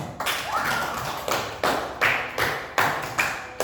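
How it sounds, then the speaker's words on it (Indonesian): A classroom of children clapping for a group in a steady, rhythmic pattern of roughly ten firm claps, close and moderately loud with a noisy room behind. "Tepuk tangan untuk kelompok."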